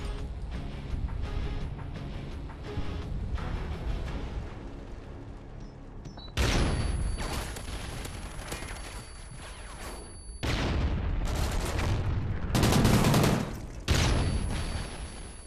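Call of Duty: Ghosts competitive search-and-destroy match, with dense, continuous gunfire and booming shots layered over a roaring game ambience, growing louder in sharp bursts toward the end.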